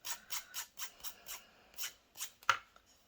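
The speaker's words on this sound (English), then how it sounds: "I'm going to see if I can just use my nail filer to file that down and smooth" A nail file rasps back and forth across a small cut craft piece in about nine short, even strokes, close and quiet, ending with a sharper click.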